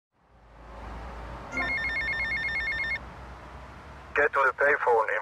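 A payphone rings in GTA Vice City Definitive Edition, a steady electronic double-tone ring lasting about a second and a half over a low game background hum, followed by short bursts of a voice talking.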